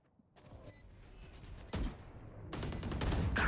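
Rifle fire in a competitive VR shooter match: a few sharp broadband cracks stand out against a busy bed of game noise and distant shots, with the loudest reports near the middle and toward the end.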